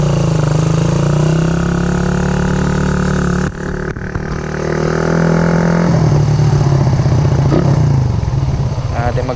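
Motorcycle engine revving at high throttle after a carburetor jetting change, a loud close drone that steadies, dips briefly, then climbs again with a slight hesitation, under an occasional voice.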